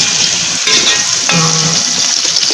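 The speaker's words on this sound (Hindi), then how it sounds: "कुकिंग ऑयल डाल के मैं रखा हुआ था, इसके अंदर मैंने डाल दिया प्याज" Chopped onion sizzling as it is tipped into hot cooking oil in a pan, a steady close frying hiss with a few stirring clatters, no one talking.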